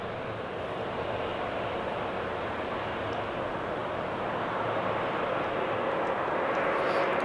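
A jet landing on runway 18R at Amsterdam Schiphol Airport produces a steady, distant, broad engine roar that holds evenly and swells slightly near the end.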